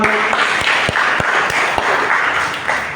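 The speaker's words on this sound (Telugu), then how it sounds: "అందరూ ఒకసారి గట్టిగా చప్పట్లు కొడదామా?" A church congregation at an Easter service breaks into loud, dense applause, many hands clapping together in a sustained roar that holds steady for a few seconds.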